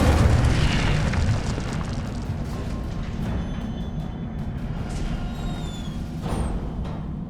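A fiery Incendio spell blast from the video game Hogwarts Legacy, a loud rumbling burst that roars steadily for several seconds with crackling flame and swelling booms, heard alone with no voices.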